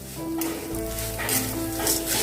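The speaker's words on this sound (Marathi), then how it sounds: "आणि हे पोहे आता आपल्याला या तुपात छान खमंग भाजून घ्यायचे आहेत" Poha roasting in ghee in a wok, a close, continuous crackling sizzle with repeated bursts as the flakes are stirred and turned, no voices.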